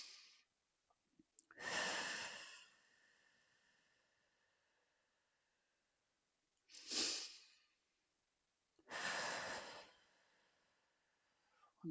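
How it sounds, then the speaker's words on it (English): Slow, deep breaths in a quiet room: three long airy inhales or exhales, close to the microphone, with near silence between them. "Okay, breathe."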